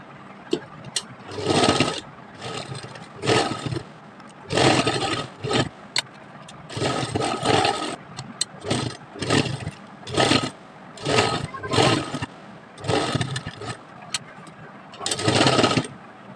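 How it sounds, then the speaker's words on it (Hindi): Sewing machine double-stitching lace onto garment sleeves, running in repeated loud bursts of rapid mechanical whirring separated by short pauses, with no talking. "अब इस पर डबल सिलाई लगा लेनी है।"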